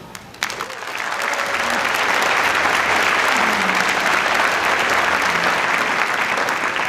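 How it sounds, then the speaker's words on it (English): A college commencement audience breaks into applause, a dense sustained wash of many hands clapping that swells within the first second and holds steady and loud, with faint voices mixed in. "Please give Sadie a round of applause for the recognition of this award and selfless service to Chabot College students."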